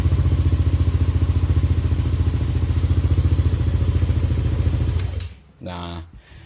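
A motorcycle being checked after an idle speed control fault (error 37) idles loud and close with a steady, even chugging pulse, then the engine cuts out and a voice follows briefly.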